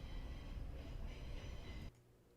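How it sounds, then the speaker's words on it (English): A Z train rolling past on the railroad, a steady rumbling roar of rail cars heard from trackside at moderate distance that cuts off abruptly near the end. "Oh, well, we found a Z train anyway."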